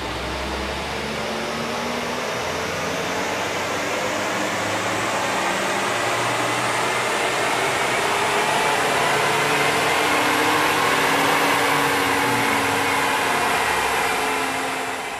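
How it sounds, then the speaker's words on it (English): A car engine roars steadily on a dyno during a power run after an air intake service, loud and sustained, its pitch rising gradually across about fifteen seconds with no talking. "let's run the dyno and let's see what happens"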